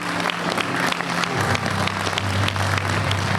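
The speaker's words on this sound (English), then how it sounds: "Let's give these young men another round of applause." Convention audience gives a round of applause for a group of young men, a full, steady burst of many hands clapping at close range, with a low tone sounding underneath partway through.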